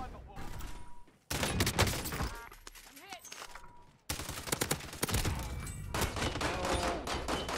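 Rapid gunfire bursts in Call of Duty: Warzone during the Haunting of Verdansk event, with dense crackling volleys and breaks between them, while a player talks over the shooting.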